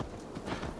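A horse's hooves clip-clop briefly and softly in the Assassin's Creed Valhalla video game, a few quick dull thuds over a faint background.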